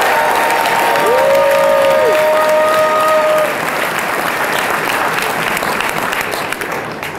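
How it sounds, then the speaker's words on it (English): An indoor union convention audience applauds customer service reps, a dense, loud, sustained wash of clapping that holds steady before slowly thinning toward the end, with a brief tonal whistle riding over the crowd early on. "let's give it up, customer service reps"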